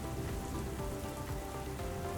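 Heavy rain pouring steadily onto a hard surface, a dense, loud, unbroken hiss of drops with no voices.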